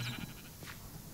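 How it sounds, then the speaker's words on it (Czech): Sheep bleating inside a cave-exploration video game, a short nasal bleat near the start followed by a fainter cry, set against steady game ambience. "Jo, ty jsi ovečka, to je v pohodě."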